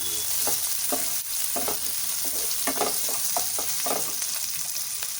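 Food roasts in a pan on the stove before ginger-garlic paste goes in, a steady hiss of frying under repeated scrapes and knocks of a spoon stirring through it, close and fairly loud with no talking.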